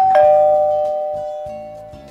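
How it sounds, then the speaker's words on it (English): A doorbell at a house front door gives one bright chime that rings out and slowly decays over about two seconds, clear and close with no voices. "She rings the bell."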